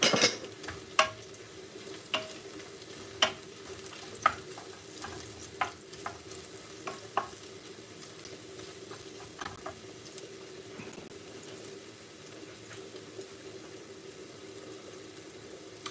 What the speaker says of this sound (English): I'm just going to add them now. I'll fry them off a little bit.